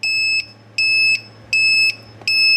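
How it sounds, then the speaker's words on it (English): An R/C boat's low-battery voltage alarm sounds four loud, piercing electronic beeps in an even rhythm, each about half a second long with short gaps between, over a faint low hum. "So that means it's time to land. And yes, it works on electric airplanes too. So we got that alarm now."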